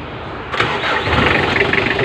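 A Mitsubishi L300 engine cranks and catches, then settles into a steady, slightly uneven running rumble close by, with no talking.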